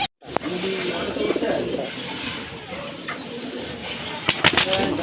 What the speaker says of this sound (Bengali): আরেক জোড়া কবুতর দেখেন আপনার, দেশি কবুতর।